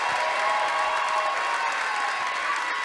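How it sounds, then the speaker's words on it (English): A crowd applauds a dance group at a local charity dance competition, loud sustained clapping mixed with light cheering, continuous and even from start to finish. "Let's have another round of applause for the Edge Dance Complex."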